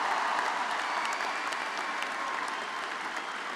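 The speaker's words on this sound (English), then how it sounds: "Another big round of applause" Sustained applause from a sizable crowd at a 2013 commencement ceremony, steady dense clapping filling the whole stretch with no voices rising above it.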